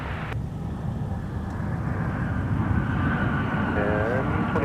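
Broad, steady jet roar of an airliner landing on runway 12 right at Minneapolis airport, constant and fairly loud throughout with a faint rising whine near the end and radio voices under it.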